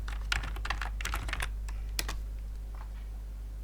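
Quick bursts of keystrokes on a computer keyboard, a flurry of taps in the first second and a half, then a lone click and a few faint taps trailing off over a steady low hum.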